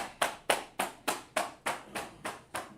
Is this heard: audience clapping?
yes